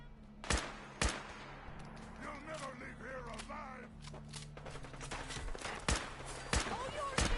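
Enemy gunfire in Fallout 4, heard as scattered sharp shots cracking out at irregular intervals over a steady low game drone, with voices talking beneath the shooting.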